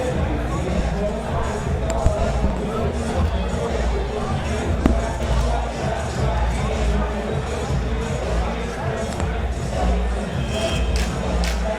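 A large crowd roars and cheers at the SuperFight 10 fight event, a steady loud wall of voices and hubbub filling the hall with no break.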